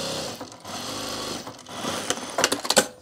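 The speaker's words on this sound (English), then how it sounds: "I think I'm just sewing too far away." A sewing machine stitches a fabric candy bowl in close, rapid whirring bursts that speed up and stutter toward the end, with no talking.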